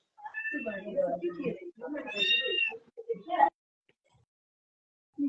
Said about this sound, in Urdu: میری بلی چیخ رہی ہے۔